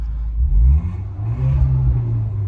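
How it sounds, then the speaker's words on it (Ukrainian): A 2013 Audi A5 with an automatic gearbox, its engine revving close by as a loud, deep rumble that swells, dips briefly and rises again with a steady low drone. "двигун робить дуже добре"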